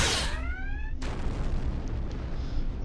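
Starship weapons fire at an asteroid mining station in Star Trek Online, starting with a loud, bright energy blast that sweeps down in pitch. A sharp burst follows, then a rumbling, crackling wash of noise.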